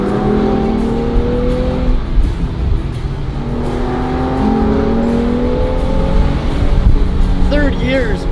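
Nissan Z NISMO engine on a rally drive, revving up toward 6,000 RPM, heard from inside the car as a steady cabin drone with rising engine tones and a brief whine near the end.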